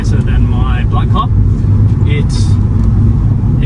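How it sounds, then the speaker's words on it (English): A 2008 Volkswagen Golf R32 Mk5 engine and exhaust give a steady, loud low rumble that continues throughout, with faint speech-like sounds sitting over the drone. "the exhaust, it sounds awesome"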